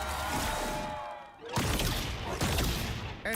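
Bombs go off in the Marvel Rivals video game during a championship match, with several crunchy, rumbling blasts that come in bursts over a dense, busy game soundscape.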